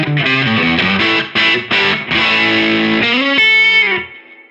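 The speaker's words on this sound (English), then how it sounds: "Now I've turned on the Analogman King of Tone. I've got just the high gain side on," Electric guitar through the high gain side of an Analogman King of Tone overdrive, a punchy, moderately driven tone in a short loud phrase of choppy notes ending on a sustained chord that fades out.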